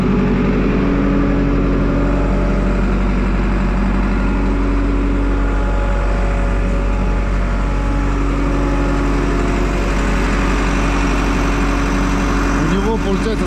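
A JCB 3CX backhoe loader's diesel engine runs steadily while warming up, with a loud, close, continuous rumble and an even idle that hardly changes throughout.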